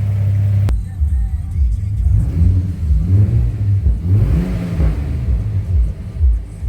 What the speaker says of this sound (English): It does burble a bit when you give it a rev.